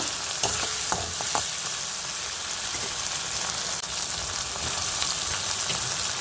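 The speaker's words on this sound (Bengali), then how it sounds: "এখানে লঙ্কা পেঁয়াজ টমেটোটা ভালো করে ভাজা ভাজা হয়ে গেলে তারপরে সবজিগুলো দিয়ে ভেজে নেব" Chilli, onion and tomato sizzle in a pan for a small-fish and vegetable chorchori, a steady close frying hiss punctuated by a few sharp stirring clicks near the start.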